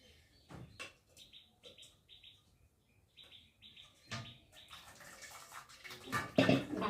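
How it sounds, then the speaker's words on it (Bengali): Water drains off a pressure-cooked banana flower in a kitchen, trickling in short intermittent splashes and drips that swell into louder pouring near the end. "আর এখন আমি জল ঝরাতে দেবো এটা মোচাটাকে।"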